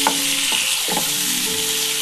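Tomato is stirred in a sizzling frying pan for a mutton and potato curry, with a loud, constant sizzle broken by a few spatula scrapes and no voices.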